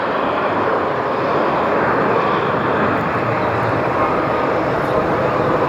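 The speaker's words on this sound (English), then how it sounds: "That's just about literally the hardest landing I've ever seen in a 330" An Airbus A330 making a hard landing on the runway, heard as a loud, steady roar of jet engines and rushing air that holds constant throughout, with a voice talking over it.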